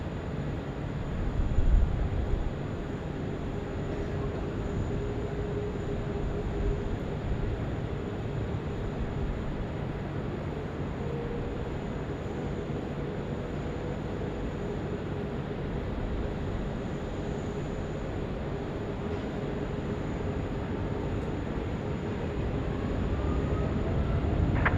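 An airliner takes off from runway 16 right at Sydney Airport at night, a long, steady, distant jet roar that holds at an even level and swells slightly toward the end, with no voices.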